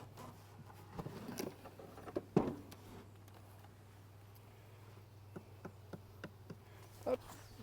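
Honeybees buzz steadily around hive frames during a summer hive check while supers are added, a low continuous drone with a few louder passes close by and scattered small taps and knocks.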